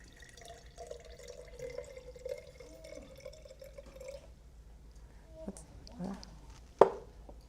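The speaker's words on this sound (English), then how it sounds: "let's take our orange and pour the blue in until you see the complement" Blue paint poured into orange paint during a color-mixing lesson, a soft wet trickle and a few drips toward the end, with a sharp tap just after, fairly quiet and with no one talking.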